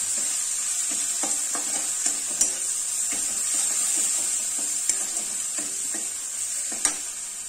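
Cabbage and red chilli powder stirred in a frying pan for a vegetarian cabbage curry, a steady close sizzle broken by scraping spoon strokes and a few sharper clacks, with no voices.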